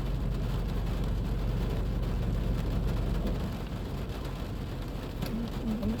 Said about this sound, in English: I've got the rains pattering on the window.